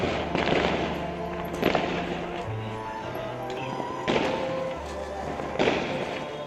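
Diwali-night firecrackers go off nearby in sharp bursts and thumps, several loud cracks standing out over continuous crackling street noise with no talk.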